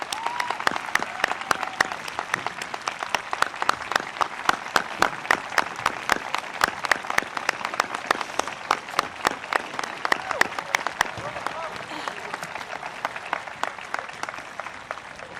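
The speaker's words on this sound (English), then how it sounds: "The class of 2021 applauds you." Sustained applause from a graduating class at a 2021 Calhoun graduation ceremony, dense steady clapping carrying on for about fifteen seconds with no voices over it.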